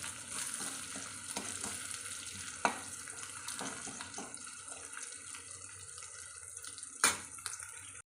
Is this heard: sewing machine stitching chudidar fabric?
no